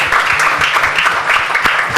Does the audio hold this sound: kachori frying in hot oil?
no